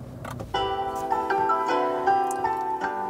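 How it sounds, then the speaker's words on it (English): Startup chime of a KGM (SsangYong) Tivoli, a short sequence of bright, clear electronic tones ringing out inside the car, close and distinct over a quiet cabin. "You get a little ding-dong on startup as well."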